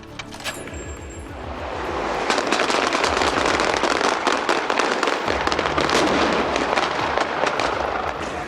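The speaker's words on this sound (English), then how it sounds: "The sniper droid with the big 20mm cannon fires at him, which sends up an explosion." A big rumbling blast followed by sustained crackling and popping, loud and dense, like a staged explosion effect going off nearby on the Chappie film set, simulating a 20mm cannon hit.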